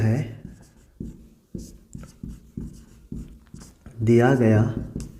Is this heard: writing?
yes